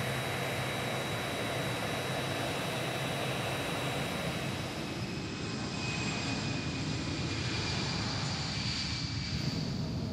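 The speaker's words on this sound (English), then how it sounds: "the first television interview ever permitted with the serving Prime Minister on the Prime Ministerial jet" Steady jet engine roar inside the cabin of the Australian Prime Minister's official jet in flight, a continuous broadband drone with a faint high whine, heard alone without voices.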